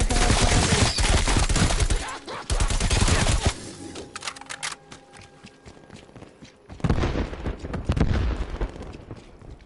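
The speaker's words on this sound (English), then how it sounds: "I just see a bunch of explosions happening over there" Explosions and bursts of gunfire in a zombie shooter, with dense loud volleys and thuds at the start, a quieter patch of scattered shots in the middle, then heavy firing again.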